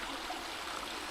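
A mountain river in a valley at Hendre'r Mynydd, rushing water forming a steady, dense broadband hiss with no break, near and fairly loud, alone without voices.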